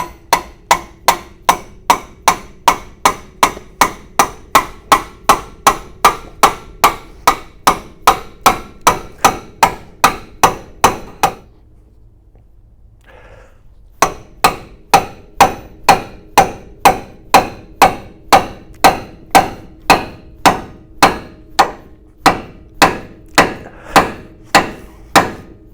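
Hammer striking a car suspension part during an LS engine swap on a van, loud close metallic blows in a fast steady rhythm that pause for a few seconds and then resume.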